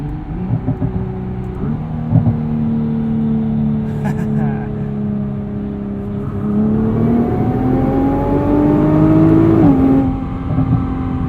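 Nissan GT-R's 3.8-liter twin-turbo V6 pulls hard under acceleration, a steady loud engine drone from the cabin that rises in pitch through the gears with brief dips at shifts.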